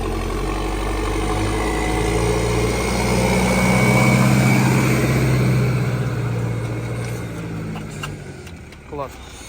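A small tractor engine drones steadily while plowing a garden bed for raspberries, the low rumble swelling and then easing away, with a brief clunk near the end.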